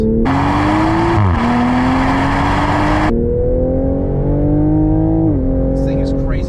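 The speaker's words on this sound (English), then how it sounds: "Get a nice little pop in between shifts." A 2022 Toyota GR Supra accelerates hard and loud, engine note climbing through the revs with brief drops and crackling exhaust pops at two gear changes, close and continuous.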